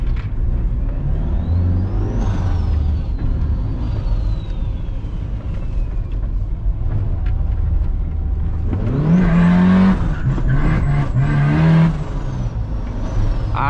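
A Ford Ranger pickup on sport tires accelerates hard with a loud, close engine roar throughout, a thin high whine sweeping early on, and the revs climbing sharply near the end.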